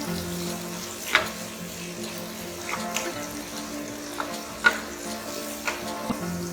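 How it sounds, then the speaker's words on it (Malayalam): Spiced potatoes for a tangy pickle-style achari aloo sizzle and fry steadily in a pan, with several sharp scraping stirs of a spoon cutting through the close, continuous crackle, no voices present. "ഇതൊരു 2 മിനിറ്റ് ഫ്രൈ ആയിട്ടുണ്ട്."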